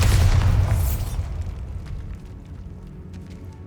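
A Bombarda spell detonates in Hogwarts Legacy, a single loud, close explosive boom that fades into a crackling, rumbling decay.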